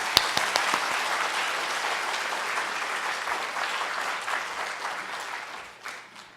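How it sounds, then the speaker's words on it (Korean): A church congregation at a Korean revival meeting breaks into sustained applause, a broad, steady roar of many hands that opens with a sharp clap and tapers off near the end. "우리 하나님께 영광의 박수를 드리겠습니다"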